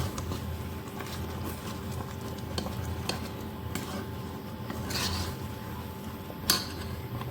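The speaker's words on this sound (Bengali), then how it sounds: "স্বাদ মতো লবণ আর একটু হলুদ দিয়ে ভালো করে এবার আমি মিশিয়ে দেব" Raw mango pieces being mixed with salt and turmeric for pickle, a soft continuous stirring and rubbing in a bowl with occasional light scrapes and clinks of a utensil, quiet and close, with no talking.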